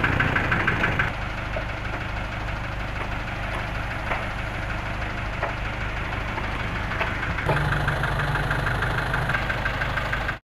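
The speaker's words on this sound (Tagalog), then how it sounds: "Ito naman yung makina mga kapobre." An owner-type jeep with automatic transmission idles steadily up close, a continuous low rumble with a faint rhythmic knock running through it, no voices.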